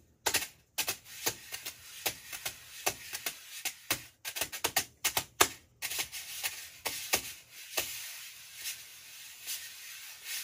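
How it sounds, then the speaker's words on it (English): Drum brushes swept and tapped on a Prologix practice pad with a hard plastic surface, crisp brushing swishes and taps in an irregular rhythm, close and fairly quiet. "and now you can practice your brushes."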